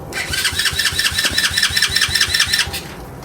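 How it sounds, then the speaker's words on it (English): A TaoTao 90cc ATV engine starting up, a rapid pulsing putter from the small single cylinder that runs steadily for about two and a half seconds before cutting off, close and loud. "And let's see if we get ignition."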